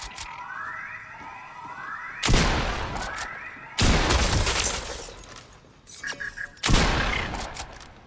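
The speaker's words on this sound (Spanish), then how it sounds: "Vas a disparar, cambias rápido a H y regresas al escopeta otra vez." Shotgun blasts in a video game, several heavy booming shots with gaps between them, the later ones spaced roughly one to three seconds apart, over faint background game sounds.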